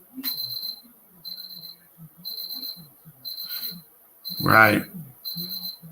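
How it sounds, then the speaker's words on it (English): UV detector alarm beeping in repeated short high electronic bursts at a steady rhythm, with brief speech and a louder burst of talk partway through. "That's just the alarm on my UV detector."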